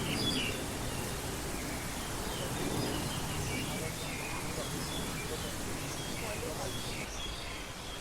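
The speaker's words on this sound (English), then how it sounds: "I'm not making those bird sounds up, those are actually the birds." Birds chirp and call repeatedly in Kowloon Park, Hong Kong, small bright calls scattered over a steady bed of city ambience and outdoor noise.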